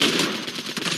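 Rapid automatic gunfire in a shooting video game, a loud close burst of repeated shots filling the whole second with no speech.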